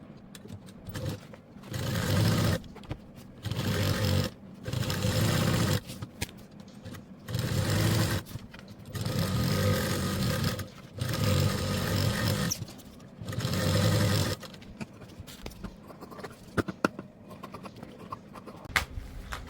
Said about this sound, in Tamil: இன்னொரு பார்ட்டையும் அதே மாதிரி நம்ம மெட்டீரியலையும் ஷீட்டையும் வச்சு ஸ்டிச்சிங் வந்து போட்டுருங்க.